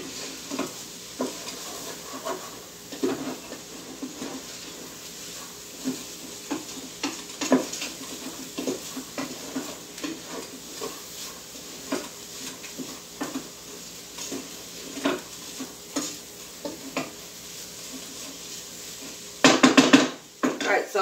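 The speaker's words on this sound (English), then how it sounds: "Give it a nice little stir." Herbs and bay leaves are stirred in a cooking pot, with soft scrapes and light clinks of a utensil against the pot under a faint background sizzle, ending with a brief louder burst of clatter.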